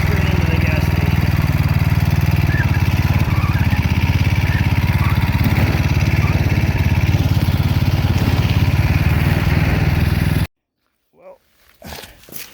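An engine-powered bicycle pushing a trailer rides along the road with a loud, steady, buzzing small-engine drone close by. The drone cuts off abruptly near the end, leaving only a few faint knocks.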